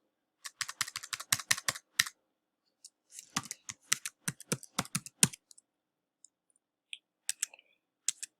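Typing on a computer keyboard to log in to a virtual machine: quick bursts of close, crisp key clicks, a fast run, a pause, another flurry, then a few scattered single keystrokes, with no talk.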